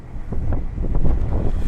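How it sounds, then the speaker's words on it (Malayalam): Strong wind buffets the microphone on a hilltop viewpoint at Chathurangapara in Idukki, a continuous low roaring rumble with gusty swells, loud and close, with no talking. "അയ്യോ, കാറ്റ് ഭയങ്കര കാറ്റാണ് കേട്ടോ."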